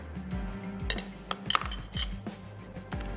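A spoon stirs mashed potato dough with a little milk in a bowl, giving repeated close metallic clinks and scrapes against the bowl in a steady rhythm, with no talking.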